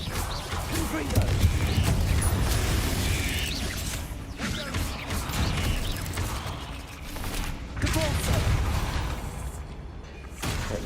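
A spell cast in Hogwarts Legacy: a busy, layered game effect of whooshing magic and crashing, mechanical impacts that runs steadily throughout, with clattering bursts over a dense low rumble.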